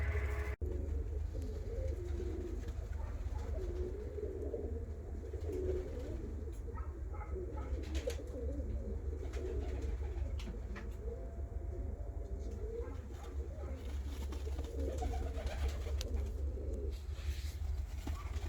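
Fancy show pigeons, including Arab Rostov, coo steadily in a soft, continuous murmur over a constant low background hum, with several birds layered together.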